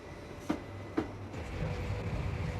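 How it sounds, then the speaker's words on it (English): Express train on the Cardiff to London Paddington line travelling, a steady low rumble of wheels on rails with two sharp clacks early on, moderately faint. "the 3:18 express train left Cardiff for London Paddington"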